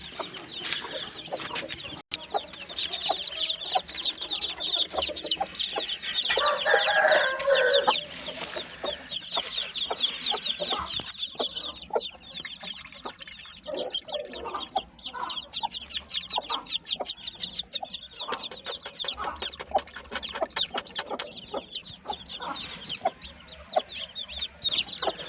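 A brood of newborn chicks keeps up a dense, continuous high peeping and chirping close by while they are fed jaggery water. No voices are heard over the steady cheeping.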